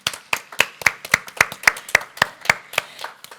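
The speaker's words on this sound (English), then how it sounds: "once more applause for Henna and all her team" Audience clapping after a talk on local cycling topics in Helsinki: about a dozen sharp, evenly spaced claps, close and distinct, in a steady rhythm with no voices.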